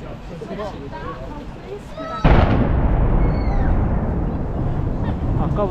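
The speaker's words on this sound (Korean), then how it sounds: "아까부터 이렇게 대포 소리가 자꾸 났어." A sudden loud boom of cannon fire hits partway through, followed by a long rumbling roar, with people talking in the background before and after, among street food stalls in Slovakia.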